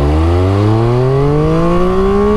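Loud, close engine of a 2022 Triumph Speed Triple 1200 RS motorcycle with a 1200 cc triple, pitch climbing steadily as it revs up under acceleration, alone with no voices.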